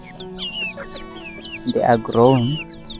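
Grown Black Australorp chickens on a village homestead cluck in short close calls, overlapped by a person talking.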